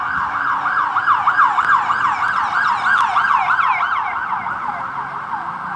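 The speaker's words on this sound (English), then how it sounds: "Pardon the siren." An emergency vehicle siren wails steadily in a rising and falling pattern as it passes on a Washington, DC street, loud and close, with traffic rumbling underneath; no one speaks.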